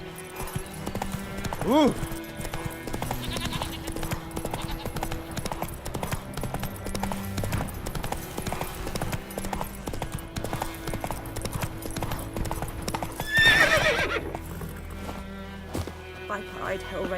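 Horse hooves gallop in steady, rapid clip-clop rhythm through a video game world in The Witcher 3, with a brief whinny and a short exclamation from a voice partway through.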